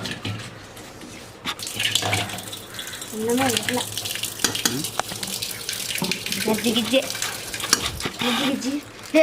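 Scraping and stirring in a pot of bubbling, boiling rice at a campsite, with watery clatter and people talking intermittently nearby.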